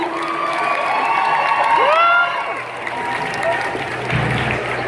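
Audience at a Buffy convention panel in Paris at the Manga Sci-fi Show cheering, whooping and applauding; a loud, dense crowd roar with high shouted voices, easing midway, then swelling again.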